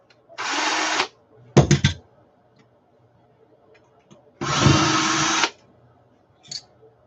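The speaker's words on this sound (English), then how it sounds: "you gotta take the screws out." Power drill backing screws out, two sustained whirring bursts of about a second each with a short rattling clatter between them and a brief faint whir near the end, fairly close.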